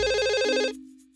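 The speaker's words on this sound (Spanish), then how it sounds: "¡El teléfono!" A telephone rings with a bright electronic trill near the mic in a toy beauty salon scene, then cuts off and leaves a lingering low tone.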